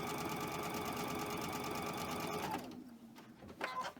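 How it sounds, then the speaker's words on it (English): A sewing machine stitches cotton fabric with a fast, even mechanical chatter, then winds down and stops, leaving a few faint handling clicks and rustles. "I'll go to the first spot that needs to be sewn, which is down here"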